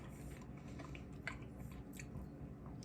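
Someone chews a mouthful of steak and rice from a hibachi meal kit, giving soft, moist, squishy chewing with a few brief crisp bites, close and quiet.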